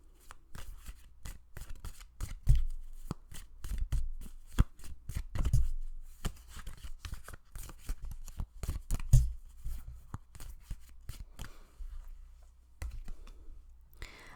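A deck of tarot cards is shuffled by hand, producing rapid, close riffling and slapping bursts repeated in quick rhythmic runs with brief pauses, clear and alone without speech.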